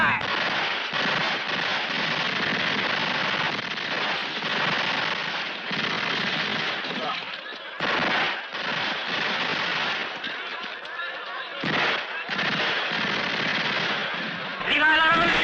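Rifle volley from a firing squad, a dense burst of cracking gunfire lasting several seconds, loud and close, with brief gaps and further sharp reports; shouting voices mix in.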